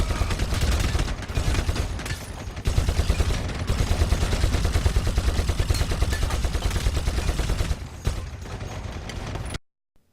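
Sustained heavy bolter fire in a video game: a dense, loud, rapid stream of booming shots rolling on for over nine seconds without pause, then cutting off sharply.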